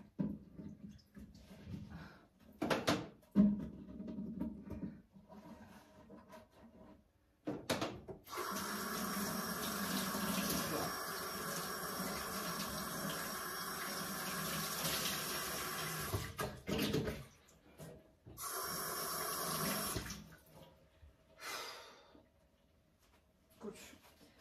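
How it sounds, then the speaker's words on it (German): Hands are washed under a running kitchen tap, the water gushing steadily for several seconds, stopping, then running again briefly, close and moderately loud, with sparse handling clatter and no speech during the flow. "Hände waschen."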